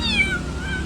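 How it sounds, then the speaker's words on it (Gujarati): A black cat gives a single close, clear meow, rising then falling over a steady low background hum. "2 કાળી બિલાડી છે"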